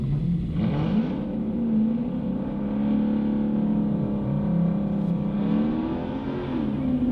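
A Mercedes-Benz SL55 AMG's supercharged V8 pulls away at a drag strip, its engine note holding a steady, close growl that rises and falls gently as the throttle is feathered, running continuously without speech.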